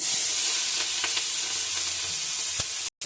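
Nigella seeds and vegetables sizzle in a little oil in a pan, giving a steady close hiss with a few soft pops and stirring scrapes, then a brief drop to silence near the end.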